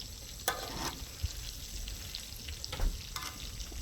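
Cracker-crumbed pork cutlets fry on a Blackstone griddle with a steady, soft broadband sizzle, broken by a few brief spatters and light scraping knocks, with no talking.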